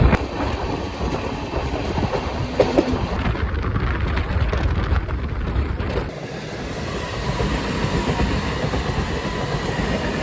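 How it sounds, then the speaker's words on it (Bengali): A passenger train pulling out of Malda runs with a steady, loud rumble and rattle of wheels and carriages, continuous throughout with no voices. "এখন মালদা থেকে ট্রেন ছেড়ে দিল।"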